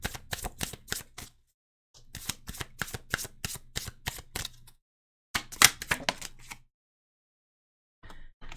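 Tarot cards are shuffled by hand in three quick bursts of crisp, rapid riffling, each burst separated by a short silent pause, with a brief fourth riffle starting at the end.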